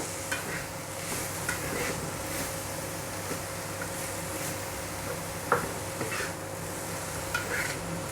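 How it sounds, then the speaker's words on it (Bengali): Grated beetroot being stirred in a frying pan over a steady low sizzle, with soft scraping strokes recurring every second or so, close and moderately quiet, no talking. "সমস্ত বিটরুট দিয়ে দিয়েছি এবার আমি খুব ভালো করে একটু নেড়ে দেব"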